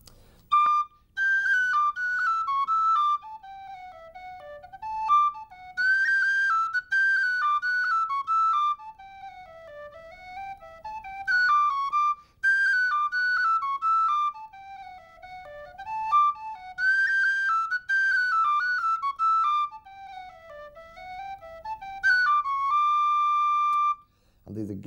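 An Irish tin whistle plays a lilting piping jig, clear bright notes ornamented with quick hammer-ons in a bouncy repeating phrase, solo and close with brief pauses.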